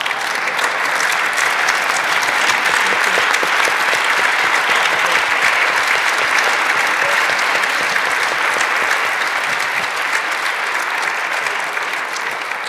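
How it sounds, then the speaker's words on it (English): A conference audience on its feet applauding, sustained dense clapping at even loudness throughout, with no talk over it. "we should stand up and applaud"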